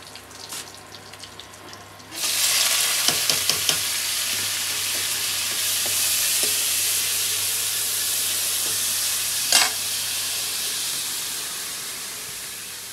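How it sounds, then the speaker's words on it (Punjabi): Tadka spices hit a hot pan in a Punjabi village kitchen and burst into a loud, steady sizzle after a quieter start, with a few clinks and scrapes from stirring along the way. "ਇੱਥੇ ਬਹਿ ਕੇ ਤੜਕਾ ਭੁੰਨ ਲਾਂਗੇ"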